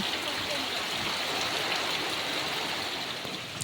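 Heavy evening rain pours onto a house with a tin-sheet roof, a dense, unbroken hiss that stays loud and even from start to finish.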